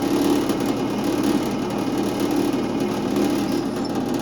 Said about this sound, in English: And now we're drilling.